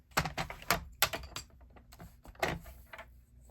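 Paper is cut for a handmade card in a quiet, close series of irregular crisp snips and taps, with a few sharper clicks among softer rustles.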